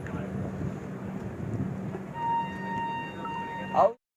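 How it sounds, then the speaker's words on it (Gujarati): The Saurashtra Mail train pulls out of the station with a low rumble and rolling wheel noise, a faint horn-like tone entering partway through, while people talk nearby before it cuts off. "ટ્રેને ડિપાર્ટ કરી ચૂક્યો છે."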